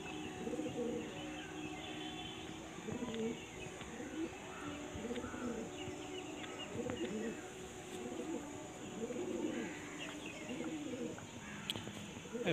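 Several pigeons coo in repeated soft, rolling phrases throughout, layered over a steady low background hum, with some chirps scattered among the calls.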